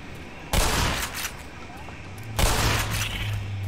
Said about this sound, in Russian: Ух, как песиков в кашу просто перемололо этим взрывом